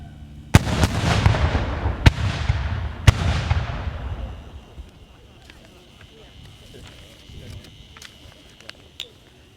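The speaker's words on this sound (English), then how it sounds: "This is going to be a cannon volley" Cannons fire at a headstone dedication ceremony outdoors. Three sharp, booming reports about a second apart each roll out in a long, rumbling echo before the scene settles into quiet ambience with small distant knocks.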